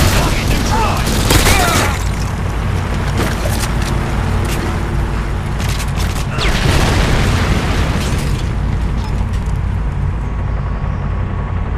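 A rocket explosion booms through a team deathmatch Nuke Hunt video game match, a loud, dense blast among ongoing gunfire and chaotic battle noise, with players talking over it.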